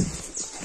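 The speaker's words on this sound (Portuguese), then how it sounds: "pra você ver a vaca mexer depois de morta" A cow that has just been slaughtered thrashes its hooves, giving a brief, close clatter of knocking hoof strikes with a low thump at the start.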